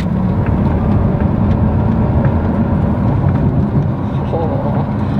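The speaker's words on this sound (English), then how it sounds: "0 to 100 in less than 4 seconds. It's a fast car." A fast sports car accelerating with a deep, steady engine roar close by, sustained and loud throughout, while someone talks over it.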